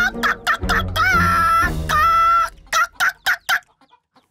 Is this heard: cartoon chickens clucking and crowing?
yes